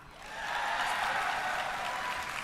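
Piped-in crowd applause and cheering swells over half a second into a steady, loud wash of clapping that holds to the end.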